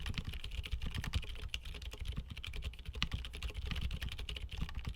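Steady, rapid typing on a mechanical keyboard with light tactile switches, producing soft, even clacks in a continuous stream.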